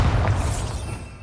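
Bombarda spell explosion in Hogwarts Legacy: a short, heavy boom with a dense low rumble that slowly decays over about a second.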